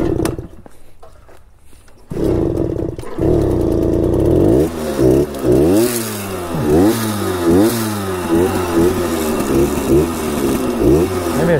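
A 1966 Harley-Davidson Aermacchi M50S small motorcycle engine idling and then revving hard through repeated rising and falling swells, close and loud, with a brief quieter lull at the start.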